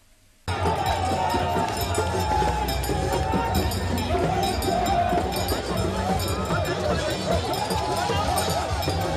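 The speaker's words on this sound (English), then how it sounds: "showed their support for Governor Ibikunle Amosun and his rebuilding mission with a large crowd and fanfare." A large crowd gathers at a political rally in Abeokuta South, Ogun State, in support of the governor, with a dense, continuous roar of many voices and fanfare holding steady after a sudden start.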